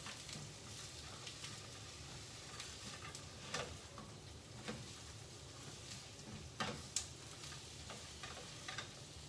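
Chicken legs and garlic fry in a pan, a steady close sizzle running throughout with a few sharp ticks and clinks from stirring or a utensil scattered across it.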